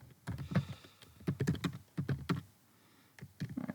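Someone types on a computer keyboard, filling in a web form and tabbing between fields. Close, crisp key clicks come in quick irregular bursts separated by short pauses.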